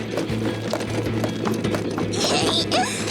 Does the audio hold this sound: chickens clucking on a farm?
no